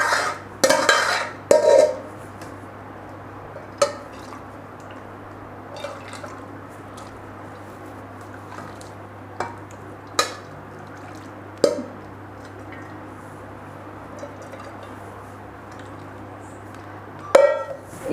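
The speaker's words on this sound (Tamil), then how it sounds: "இப்போ நம்ம எல்லா அரிசியும் இதில் வந்து நம்ம மிக்ஸ் பண்ணிடுவோம்" Rice and water being mixed in a pot by hand: scattered sharp clinks and knocks against the pot with soft splashing and drips in between, close and fairly quiet, without talking.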